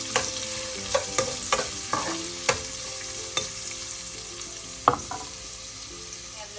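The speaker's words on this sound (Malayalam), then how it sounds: "എല്ലാം കൂടെ ഒന്ന് മിക്സ് ചെയ്യാം." Spoon scraping and stirring cauliflower and sliced onion in a pan for a thoran stir fry, with repeated clinks and a steady soft sizzle underneath.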